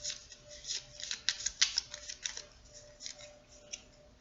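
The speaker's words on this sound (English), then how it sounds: "let's pull some clarification cards on that 8 of Wands." Tarot cards being pulled and shuffled from a deck produce a quick run of close, crisp papery snaps and flicks, bunched in the middle and then thinning out, with no voices.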